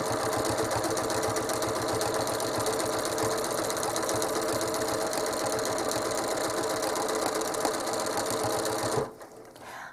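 A sewing machine quilting along a holiday lettering stencil runs in a loud, steady, close hum for about nine seconds, then stops abruptly.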